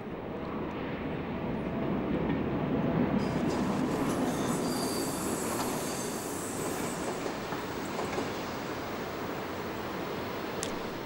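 A DR class 229 diesel-hydraulic locomotive running: a loud, steady rumble of engine and rolling wheels with a faint metallic squeal, continuous throughout and with no voices.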